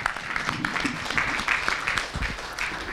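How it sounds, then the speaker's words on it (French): At a French academic conference on ethics and CSR, an audience applauds a speaker, a moderate, continuous patter of clapping from a roomful of people, with faint voices underneath. "Et je vais vous demander de l'applaudir aussi"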